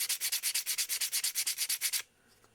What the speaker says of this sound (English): And what you do is roughen up the surface